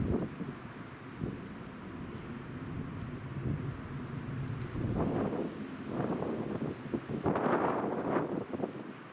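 Wind blowing outdoors among rocks and a dead pine, a steady rushing roar with stronger gusts building toward the end, no voices.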